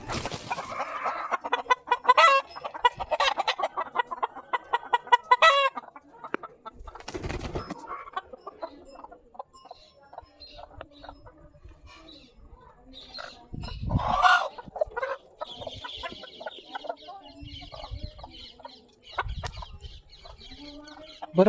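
Chickens in a poultry farm shed cluck and squawk in overlapping bursts, some close and loud and others softer further off, with a few quieter gaps between flurries and no clear talking.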